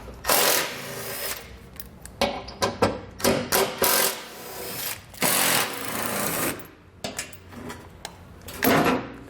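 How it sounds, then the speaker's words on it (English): Seven 13mm bolts being removed from the skid plate under a 2020 Jeep, heard as a string of close, loud ratchet and impact-tool bursts, each a few seconds or less, separated by brief pauses and clinks of tools. "we're going to need to remove our skid plate. It's going to be held in by 7 13mm bolts."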